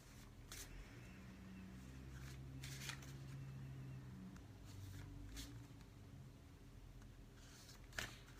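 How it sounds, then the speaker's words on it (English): A deck of cards is shuffled quietly at close range during a full moon ritual, with soft repeated riffles and taps over a faint low hum, no talking. "I'm just going to shuffle a couple more times and draw the first card"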